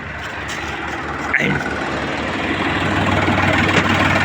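A heavy engine idles steadily with a low rumble, a brief knock partway through, and a faint voice underneath.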